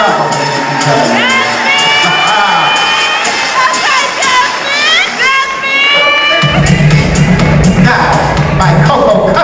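A coronation pageant audience roaring with cheers, whoops and high shouts, then breaking into dense clapping, loud and sustained throughout.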